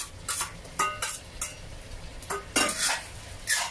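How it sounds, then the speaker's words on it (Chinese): Curry beef brisket and onions stir-fried in a pan, with a spatula scraping and clinking against the metal in irregular strokes over a faint sizzle, close up and without talk. "咁我去兜煮下佢"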